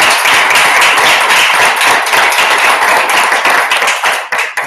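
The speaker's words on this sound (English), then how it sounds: "So big round of applause for Mark" Loud, close applause from a Toastmasters club audience greeting a magician, a dense uninterrupted wash of clapping hands that stays strong throughout and breaks into a few separate claps as it fades at the end.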